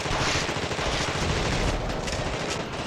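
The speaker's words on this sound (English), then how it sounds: "You can throw a fire grenade" Fire grenade thrown in The Thing video game, a dense, sustained burst of crackling, roaring fire and blast noise that fills the whole stretch at steady loudness.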